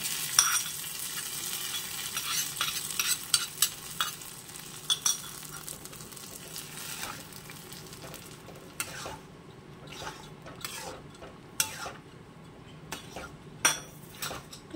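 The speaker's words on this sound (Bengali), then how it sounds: "নাড়াচাড়া করে নেবো" A spoon stirs egg curry in a frying pan, with scraping, clinks against the metal and a soft sizzle underneath. The strokes come irregularly, close and clear, then thin out toward the end.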